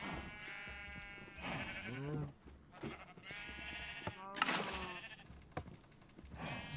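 Sheep in the video game Minecraft bleat several times in a row, wavering, nasal calls that overlap one another, fairly close and loud with brief gaps between them.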